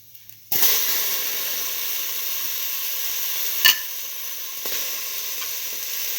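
Tomato pieces hit a hot pan and start frying, a sudden loud sizzle that settles into a steady hiss, with a brief stirring clatter midway.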